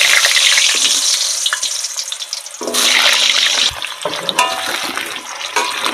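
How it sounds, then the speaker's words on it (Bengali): Potatoes frying in well-heated oil in a kadai, a loud close sizzle and bubbling crackle that surges when the pieces go in and keeps hissing steadily throughout. "তো চলো আগে আলুগুলো ভেজে নিই"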